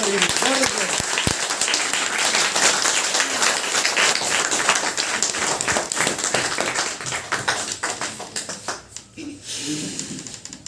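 An audience at an indoor motivational meeting claps steadily and loudly for several seconds, the applause thinning toward the end, with voices talking over and after it.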